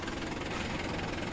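The engine of a paddy harvesting machine runs with a dense, steady, loud mechanical rumble and faint knocking throughout a brief stretch.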